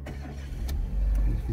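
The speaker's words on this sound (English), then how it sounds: "We'll just start her up." A Renault Modus 1.6 Dynamique automatic car engine starts up, a short crank followed by a steady low idle that settles loud and close, with no talking.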